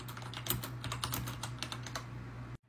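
Fast, steady typing on a computer keyboard, a dense run of close key clicks over a low steady hum, stopping abruptly near the end.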